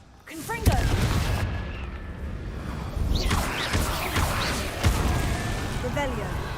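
Confringo, the explosive spell in Hogwarts Legacy, goes off in several booming blasts, each with a crackling tail, spread through the stretch under a voice.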